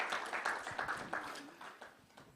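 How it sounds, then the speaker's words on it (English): Quiet audience clapping in a hall at a design competition finale, a soft patter of hands fading gradually, heard alone without talk. "A round of applause for sir."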